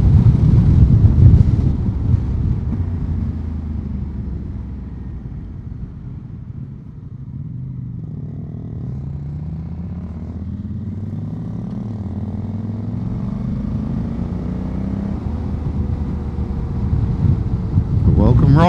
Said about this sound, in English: Well, it's a bit breezy out here.